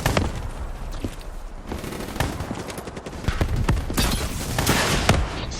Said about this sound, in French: On se tire dessus!